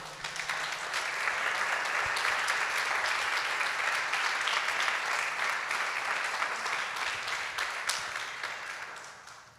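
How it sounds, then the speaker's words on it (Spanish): Church congregation applauding steadily for close to ten seconds, a dense, even wash of clapping that swells in and then tapers at the end, with no voices over it. "Démosle un aplauso al Señor."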